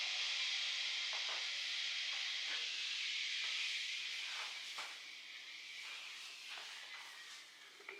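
Water heating toward a boil for matcha gives off a steady, soft hiss, with light ticks and small pops scattered throughout as it warms; the hiss eases slightly toward the end.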